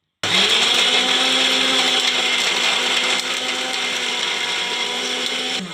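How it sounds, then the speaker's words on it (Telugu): An Indian mixer grinder blends coconut and tomato into a paste. The motor starts abruptly and holds a loud, steady whir, dipping slightly in pitch partway through. "మిక్సీ జార్లో వేసి పట్టుకోవాలి"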